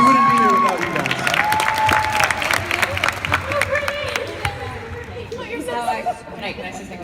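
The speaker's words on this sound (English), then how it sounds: "Give yourselves a round of applause." Convention panel audience applauding and cheering, loud at first then thinning into chatter, with people on stage talking over the fading clapping.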